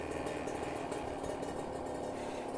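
A Kawasaki Ninja RR two-stroke motorcycle warms up with the choke raised, its engine idling in a steady, close, even buzz with no talk.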